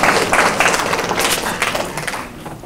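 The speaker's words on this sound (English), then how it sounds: "You guys going to clap for that one?" An audience claps at a community conversation event about educational achievement gaps. The applause is a steady, dense patter at moderate loudness that gradually thins and fades over a few seconds.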